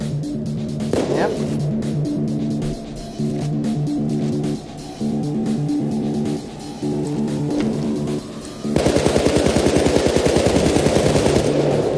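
Rapid automatic gunfire rattles through a Payday 2 firefight in short repeated bursts, then swells into a dense, loud sustained barrage of overlapping shots near the end, with no voices over it.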